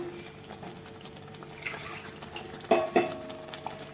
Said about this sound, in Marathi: आणि आता यामध्ये पाणी टाकते मी